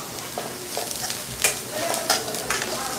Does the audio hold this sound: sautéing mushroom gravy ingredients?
yes